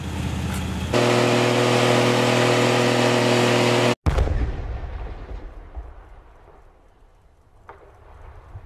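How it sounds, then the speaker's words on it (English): A truck doing a burnout gives a loud, sustained engine roar with a droning tone for about three seconds, then cuts off abruptly, followed by a lower rumbling that gradually fades. "it's burnout time"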